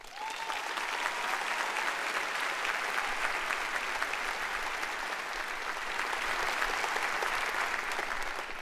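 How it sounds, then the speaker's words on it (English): Steady applause from a commencement crowd at Singapore American School honors graduating students, moderately distant and even, continuing unbroken for the whole stretch. "Give those boys some applause"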